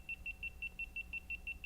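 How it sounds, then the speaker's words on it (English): A GoPro camera emits quiet, high-pitched double beeps in a steady repeating pattern, about one pair every fifth of a second, during a podcast recording, with no talking over it. "That's the GoPro beeping hour."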